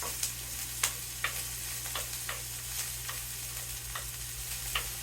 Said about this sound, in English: I love the smell of onion and potatoes frying.